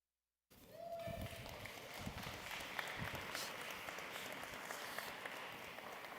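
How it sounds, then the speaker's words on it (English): Audience applause at the 2026 Mitsubishi Outlander PHEV reveal, starting abruptly after silence and holding as steady, moderately distant clapping from a sizeable room. "Thank you for starting the applause"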